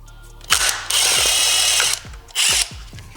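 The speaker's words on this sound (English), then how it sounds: "we're just gonna drill and leave enough space for this washer" A power drill whirs in two bursts, a short one then a long steady run, stopping and starting again briefly, boring a bolt hole in an Infiniti G37 bumper, with clicks and knocks between, close up.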